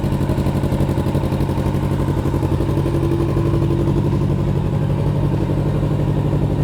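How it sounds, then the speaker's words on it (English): A Kawasaki Z650RS motorcycle idles steadily while warming up after a coolant change, its engine holding a constant, even drone throughout with no revving or other sounds. "Right, so I'm just gonna let the bike warm up now."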